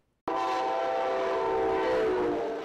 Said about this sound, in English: The push to stop loud train horns through Encinitas has left the station for good. It's one long, solid, obnoxious blast.